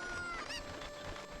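Clucking chickens roam Kakariko Village by day in The Legend of Zelda: Ocarina of Time, a few short game-bird calls over soft steady ambience, fairly close and moderately loud.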